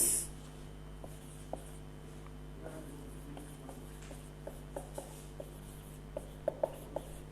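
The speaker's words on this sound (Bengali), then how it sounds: "এবার ইনস্ট্রাকশন লিখছি" Pen writing instructions by hand on paper, faint scratchy strokes and light taps scattered over a quiet room hum, with a few sharper clicks near the end.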